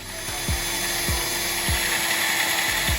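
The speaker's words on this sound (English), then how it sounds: "So I'm gonna drill this through." A drill bores through a Corvette C3 radiator fan shroud backed by a piece of wood, a steady close whine with a low thump pulsing about every half second beneath it.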